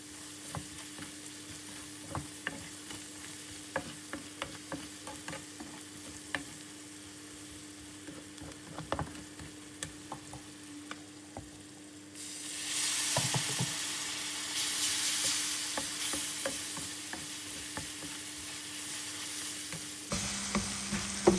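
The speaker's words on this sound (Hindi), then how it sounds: "हम इसकी खुशबू आने तक मसाले की इसको भूनेंगे हम लोग, ताकि अच्छे से इसका मसाला भुन जाए।" Spices with green chilli fry in oil while being stirred, with soft scraping and tapping over a low sizzle that swells into a loud, steady hiss about halfway through.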